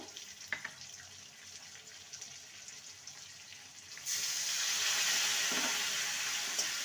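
Ground spice paste for a bitter gourd curry, added with a little water to potatoes already browned in a pan, sizzles and hisses; a steady broadband frying sound swells sharply louder partway through as the wet paste hits the hot oil.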